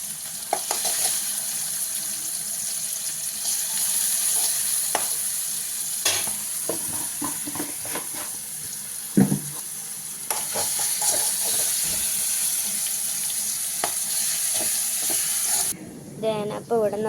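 Vegetables sizzle steadily in a hot pan while being stirred, with a constant close frying hiss and intermittent scraping knocks of a spoon; a voice briefly speaks near the end.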